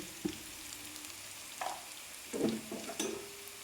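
Turmeric and other spice powders going into hot oil in a pan while making tomato pickle: a soft, steady sizzle with faint stirring scrapes and small bursts, quiet and close, with no talking.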